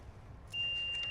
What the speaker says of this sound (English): that alarm is not very promising